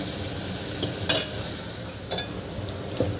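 Masala for a spicy potato and eggplant curry roasting in oil, a close steady sizzle with a few sharp scraping stirs of a spoon, and no one speaking.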